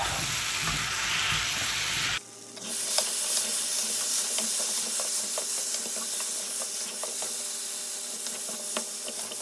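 Potato egg curry cooking in a pan on medium heat, a busy steady sizzle and bubbling crackle with scattered pops, close and moderately loud, following a brief louder hiss at the start.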